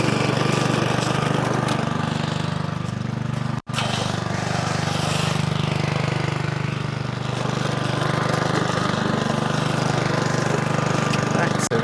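A lawn mower engine runs steadily and loudly nearby, a constant droning hum with one abrupt brief cutout partway through, while a voice may be faintly present.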